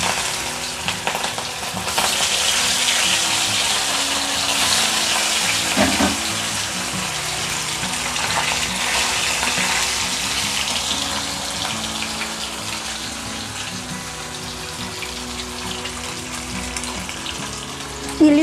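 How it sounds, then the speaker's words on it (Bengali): Pieces of hilsa fish fry in hot oil in a pan, a steady hissing sizzle that runs unbroken throughout, close and fairly loud, with no talking. "তেল এখানে গরম হয়ে গেছে, এবার আমি এক এক করে মাছগুলো ভাজার জন্য ছেড়ে দেবো।"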